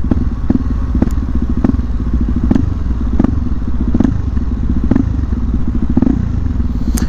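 A motorcycle engine runs steadily at high elevation with jetting tuned for the altitude, a loud close drone with regular rhythmic thumps and clatter about every half second throughout.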